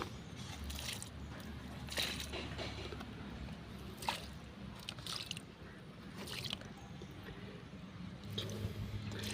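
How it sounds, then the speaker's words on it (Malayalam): Liquid is poured over growing ginger plants in a garden, giving a steady wet splashing and dripping that runs throughout, close by and moderately loud. "അപ്പോൾ നമുക്കിത് ഇതിലേക്ക് അല്പം ഒഴിച്ചു കൊടുക്കാം"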